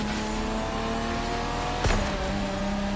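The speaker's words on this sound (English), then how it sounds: "That RX-8 sounds insane." A Mazda RX-8 rotary engine in The Crew Motorfest hums at a steady high pitch under sustained throttle, with one brief louder burst partway through; no talking.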